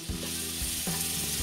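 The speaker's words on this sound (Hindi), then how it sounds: "अंदर कटे हुए टमाटर भी डाल देंगे" Chopped tomatoes and spices (turmeric, coriander and red chilli powder) sizzle steadily in a hot pan while cooking tinda sabji, with a fresh burst of frying partway through as the mix is stirred, close and continuous with no talking.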